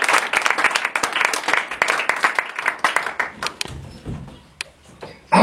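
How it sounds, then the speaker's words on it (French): A church congregation claps and applauds together, a dense burst of hand clapping that thins out and fades toward the end. "Donnez l'acclamation au Seigneur."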